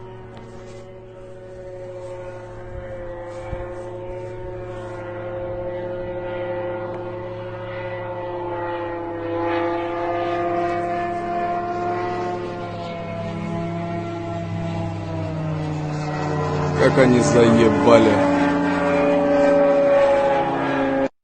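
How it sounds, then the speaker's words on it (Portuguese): A Ukrainian J-22 drone flies past with a steady droning engine tone that holds throughout and swells slightly louder toward the end. A man mutters a few words over it. "Aqui só mostra o drone passando, né? É claramente aquele drone, o J-22 ucraniano."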